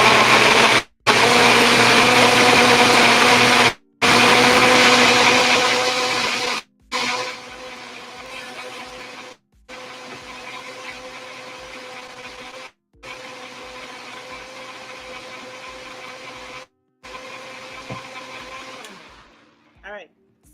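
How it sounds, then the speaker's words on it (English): A kitchen blender whirs loudly while blending a vegan drink, a steady motor roar broken by several brief stops, easing into a lower, steadier hum before it winds down at the end. "I'm going to twist my blade on, and we're just going to blend this for like 30 to 60 seconds."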